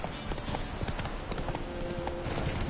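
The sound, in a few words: horse Roach trotting hooves, from Witcher 3 video game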